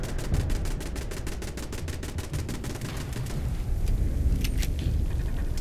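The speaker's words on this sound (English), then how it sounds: "Turrets are putting in overtime." Automated base defense turrets in Fallout 76 fire a fast, steady machine-gun stream for about three seconds, then fall to a few sparse sharp shots over a rumbling background.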